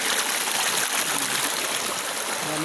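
Laya River water flowing steadily in Talisay City, Cebu, a close, continuous broadband rush and trickle with no break, alone without talk.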